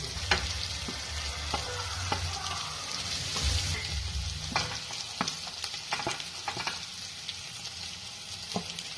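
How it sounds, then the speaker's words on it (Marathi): Spices frying in oil for paneer masala after tomatoes have cooked down, a steady close sizzle with scattered utensil scrapes and clicks throughout, no voices. "वरती तेल आलं की मग मसाले टाकून घ्यायचे"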